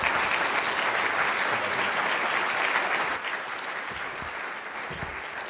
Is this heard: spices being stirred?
no